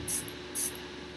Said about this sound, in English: spray on a cotton wool, maybe 3-4 sprays